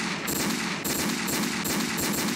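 Rapid automatic gunfire from a weapon in a first-person shooter video game with helicopter and tank battles, a dense, continuous burst of shots close up and loud with no talking over it.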